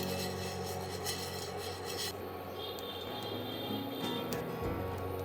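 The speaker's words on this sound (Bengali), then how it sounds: "এগুলো শুকনো খোলায় ভেজে নিচ্ছি।" Whole coriander, cumin and fennel seeds are dry-roasted in a pan, making a continuous rubbing, rasping scrape as they are stirred, close and fairly quiet, with no talk.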